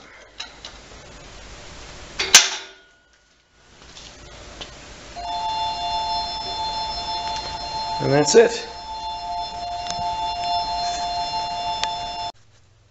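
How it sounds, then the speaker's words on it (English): A phone rings with bright electronic tones that repeat over several seconds, partly under a voice and some handling clatter. "so that was the phone."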